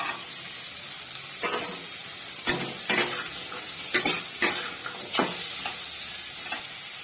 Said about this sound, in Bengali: আর দিলাম অল্প একটু টমেটো দিয়ে আবারও ভালো করে এটাকে কষতে থাকবো।